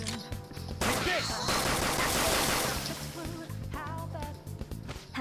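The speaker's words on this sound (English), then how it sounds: "You can continuously shoot until you run out of ammo." Rapid gunfire from gun attacks in the Persona 5 Royal video game, a dense burst of shots and impacts that swells loudly through the middle and then trails into scattered sharp hits, with game sound effects around it.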